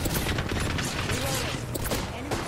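Gunfire in the shooter game Realm: rapid bursts of shots crack out in quick succession, loud and close, forming a dense volley across the whole moment.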